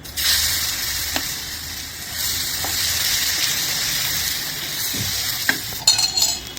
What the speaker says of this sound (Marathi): आता पीठ घालता.